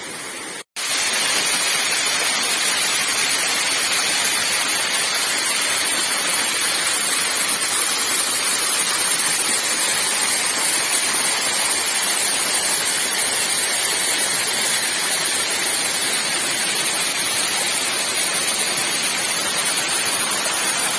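The Chathamangalam hill waterfall flowing, a modest fall in Kannur district, heard as a steady, dense hiss of falling water that continues without a break after a short start.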